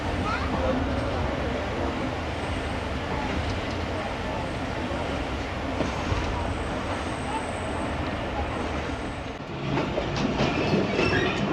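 A passenger train on the Faisalabad to Lahore route rumbles steadily along the rails toward Alipur Chatha station, a loud continuous roll heard from inside the carriage, with a shift in the clatter near the end.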